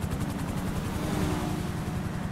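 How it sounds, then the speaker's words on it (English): A helicopter flies overhead in a roleplay video game, its rotor producing a loud, continuous rhythmic chopping rumble that stays steady and close throughout with no talking. "Look at that helicopter, bro."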